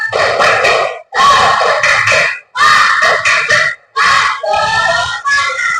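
A school class of students chants and claps the tepuk semangat routine together: four loud bursts of shouted group voices with rhythmic claps, separated by brief pauses.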